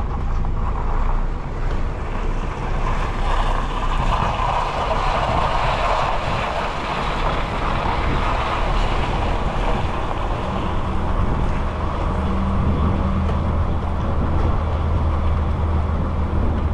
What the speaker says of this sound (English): And it's windy, which means only one thing.